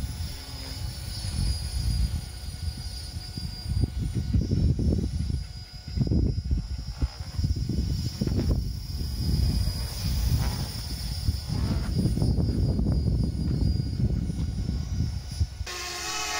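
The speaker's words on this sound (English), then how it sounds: "Most dominant sound here is that of the transmission. The rotor is only occasionally heard" Helicopter transmission whines over a broad mechanical rumble, steady and loud throughout, with the rotor thump only faintly and occasionally emerging beneath it.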